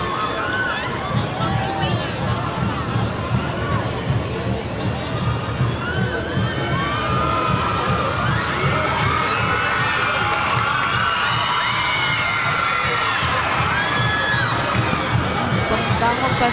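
Supporters cheer and shout at the Peñafrancia Voyadores Festival 2023, a dense crowd roar with high yells and whoops over a rumbling, stamping rhythm, continuous and fairly distant.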